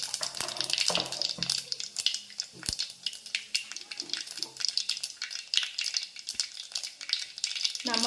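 Fennel seeds, added after mustard and cumin seeds, sizzle in hot oil while tempering, giving a faint, busy crackle of small pops and spits close by, with no talking.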